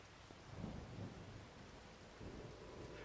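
Thunderstorm with steady rain in Farming Simulator 25, a dense continuous wash of rainfall with low rumbling thunder rolling underneath, swelling briefly near the start and again toward the end, no voices.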